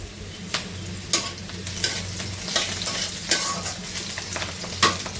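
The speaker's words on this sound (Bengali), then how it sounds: "ডাটা আর আলু পটল দিয়ে রান্না করছি মাছ বড়ি দিয়ে ঝোল" A Bengali fish curry with lightly fried fish, drumstick, potato, pointed gourd and lentil bori cooks in a pan. A spatula scrapes and stirs in repeated strokes over a constant close sizzle.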